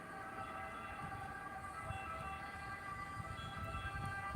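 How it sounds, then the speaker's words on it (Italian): An ambulance siren wails steadily in a street, a sustained tonal warble at moderate distance over faint traffic rumble. "Qua ogni giorno passa un'ambulanza, minimo 3-4 volte al giorno."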